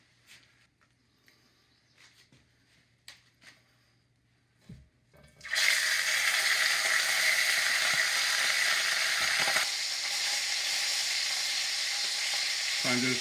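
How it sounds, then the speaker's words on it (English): Lamb browning in hot oil for Oaxacan barbacoa tacos: a loud, steady sizzle bursts in after a few seconds of quiet kitchen clinks and stays continuous and close to the end. "Now the oil goes in, let that heat up a little bit, and then we'll brown the lamb."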